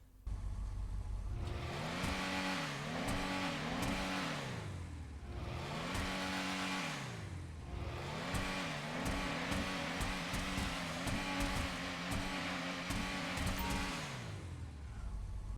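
A Lampadati Michelli GT car engine in GTA Online revs up and down repeatedly, pitch climbing and dropping in waves, loud and continuous with a synthetic tone.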